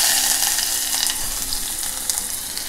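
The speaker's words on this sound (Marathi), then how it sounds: "कढीपत्त्याची पानं चांगला असा भाजून घ्यायचा कांदा" Onion and curry leaves hiss and crackle steadily in hot oil for an old-style Konkan potato bhaji, a loud, continuous close sizzle with no voices.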